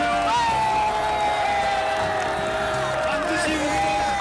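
A political rally crowd cheers and shouts in a sustained roar, with whoops rising over the noise, loud and continuous across the clip.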